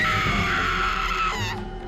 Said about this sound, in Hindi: तभी उसे मीरा की चीख सुनाई दी